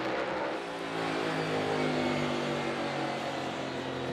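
A NASCAR Cup Series race car engine drones steadily at high pitch at Richmond Raceway, its tone easing slightly as the throttle lifts, with no voices over it.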